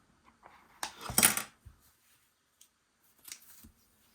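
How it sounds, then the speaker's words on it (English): Scissors snip through crochet yarn in one quick, close cut, with a faint handling sound shortly afterward in an otherwise quiet room. "and cut the yarn."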